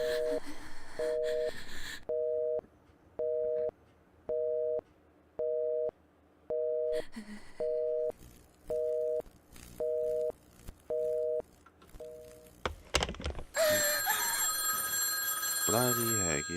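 A telephone in the horror video game You've Been Chosen rings in a steady repeating pattern of about a dozen short pulses, then gives way to a harsh busy tone and louder electronic noise near the end.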